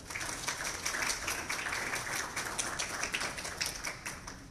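An audience at a press event for journalists gives a steady, fairly faint round of applause, dense overlapping claps that carry on evenly with no talk over them.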